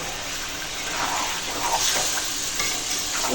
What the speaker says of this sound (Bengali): এখন মাংসটা কষাবো